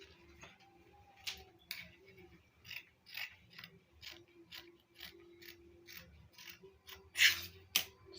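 Dressmaking scissors snip through fabric while cutting out a dress neckline, a steady series of short crisp cuts, close and fairly quiet, with soft handling noises between them.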